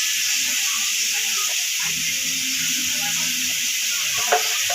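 Masala frying in a hot pan gives a steady, bright, continuous sizzle close by, with a faint low hum underneath and a small tap near the end.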